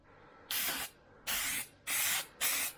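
Four separate bursts of aerosol Plasti Dip spray hiss close by, each about half a second long, as a third coat goes onto the emblems of a 2018 Chevrolet Colorado truck.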